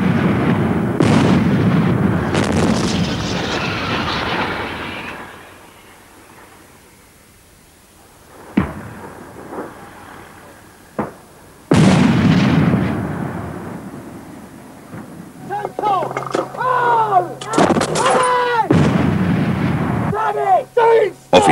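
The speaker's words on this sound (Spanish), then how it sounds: "Cuando disparas este cañón de 105 milímetros," A tank fires its 105 mm cannon in a 1985 military documentary, heavy booming blasts with long rumbling tails, separated by quieter gaps and sharp cracks, with voices speaking over part of it.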